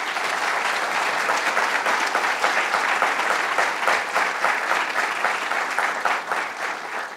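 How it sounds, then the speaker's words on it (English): Sustained, steady applause from an audience at a governor's announcement in Staten Island, a dense wash of many hands clapping continuously at even loudness and tapering slightly at the end. "So let's give them a round of applause."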